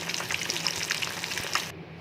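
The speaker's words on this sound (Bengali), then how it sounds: "এক এক করে মাছগুলোকে ছেড়ে দেবো। মাছ ভাজা হয়ে গেলে মাছগুলোকে তুলে নেব।" Fish pieces sizzle and crackle in hot oil, a dense steady frying hiss with small pops, close and loud, cutting off just before the end.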